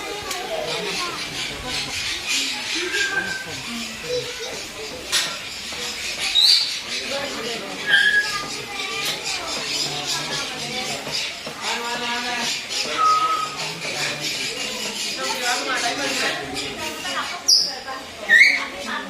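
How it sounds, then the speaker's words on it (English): Lovebirds at Ramoji Film City chirp and screech in short, shrill calls scattered through a busy, noisy scene, with people talking throughout. "Nice lovebirds."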